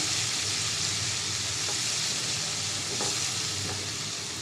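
Whole cumin seeds sizzle in hot oil in a pan: a loud, steady, close frying hiss that carries on without pause and without talk.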